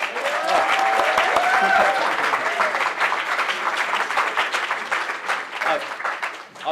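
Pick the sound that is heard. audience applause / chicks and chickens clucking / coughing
audience applause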